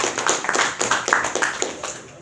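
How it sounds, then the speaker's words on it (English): A small room of people clapping at a Lions Club meeting, a short round of applause with distinct rhythmic claps, close and moderate, fading toward the end. "So let's give him a round of applause."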